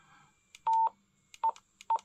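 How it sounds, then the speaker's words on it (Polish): Keypad beeps from a Motorola T82 Extreme PMR 446 walkie-talkie: three short, clear electronic tones in an uneven rhythm, close and alone in a quiet room. "Dźwięki klawiatury."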